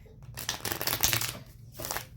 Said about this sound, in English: let's get a couple shuffles